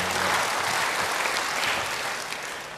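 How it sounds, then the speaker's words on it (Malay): A church congregation breaks into loud, continuous applause during a sermon, a thick, steady roar of clapping with little variation, heard alone without talk. "Beri tepuk tangan yang baik buat dia."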